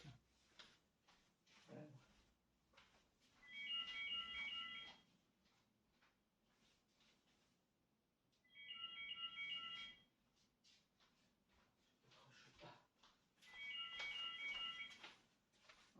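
A phone ringtone from an unanswered advertising call rings in three faint, evenly spaced bursts, with soft paper-crafting rustles and clicks between them.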